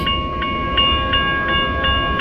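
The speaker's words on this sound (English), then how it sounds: "Running right past the one on the left is the crew train, the one on the right had the green to run through." An eastbound freight train running through past a stopped crew train at Missouri Valley, Iowa, at the start of a blizzard: steady, close rolling rumble with regular clicking rail joints and a faint high metallic ring, no voices.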